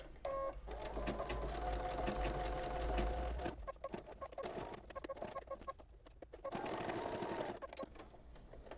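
An embroidery machine stitches out a test design, its needle hammering in rapid, steady bursts that stop and restart. Each run lasts a few seconds, close and fairly loud, with brief quiet gaps between runs.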